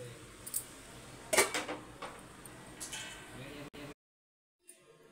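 A metal lid is handled on a pot of cooking mutton fry, giving a few light clinks and a brief clattering knock over a low kitchen hum, with a voice speaking, before the sound cuts out.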